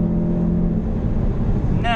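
A 2018 Jaguar F-Type S on the Algarve circuit, its engine droning steadily as the driver lifts off the power, with someone talking over it throughout.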